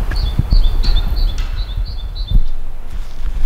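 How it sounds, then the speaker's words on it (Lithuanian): Spring songbirds chirp in repeated short high calls through a fairly steady low rumble of outdoor background noise. "Pavasario garsai, paukščiukai."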